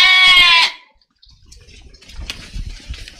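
A single loud, close sheep bleat sounds on stage during a church Christmas nativity play, then fades into quieter rustling and background noise.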